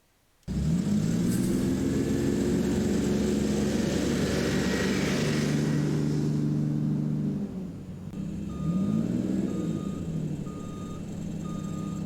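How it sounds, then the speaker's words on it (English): A Detroit Diesel 6V71 engine in a 1981 GMC RTS bus starts up and drones steadily with a low rumbling idle, dips briefly, then rises again as it revs, with a faint intermittent beeping. "the Detroit Diesel 6V71 engine, which sounds like this"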